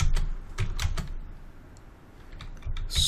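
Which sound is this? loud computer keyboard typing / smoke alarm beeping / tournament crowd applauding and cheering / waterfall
loud computer keyboard typing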